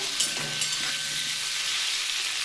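Soft, even sizzle of potatoes frying in a pan, a quiet hiss with a couple of faint clicks, close and with no voices.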